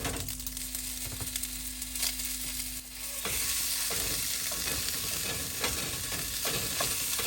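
About a pound of ground sausage sizzling in a skillet with a little oil, a close, continuous hiss and crackle that swells louder partway through, with occasional stirring scrapes.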